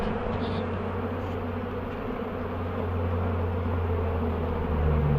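A swarm of honey bees being scooped into a box during removal gives a steady, dense buzzing drone that holds at an even, fairly loud level throughout, with no voices.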